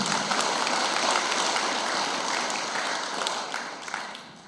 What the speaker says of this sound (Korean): 다시 한번 찬탄의 박수 부탁드리겠습니다